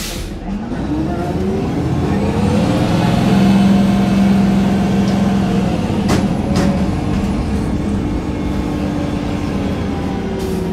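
Eldorado National E-Z Rider II BRT transit bus of Prince George's County Transit driving, a steady loud engine drone with a rising whine and road rumble heard from inside, plus a couple of brief clunks near the end.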